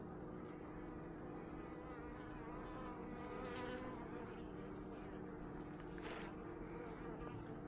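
Honey bees buzz steadily at an open hive at an apiary in Bulgaria, a dense, faint, continuous drone of many insects close by, with no talking.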